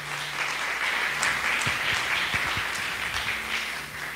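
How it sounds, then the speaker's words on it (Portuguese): A church congregation at an evening home service applauds steadily for about four seconds, a dense, even wash of clapping with a few low thumps from nearby hands. "Pode aplaudir ao Senhor pela vida do servo de Deus."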